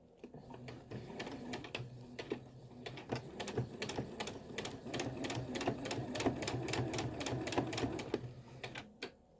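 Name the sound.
sewing machine stitching a fabric mask with quarter-inch seam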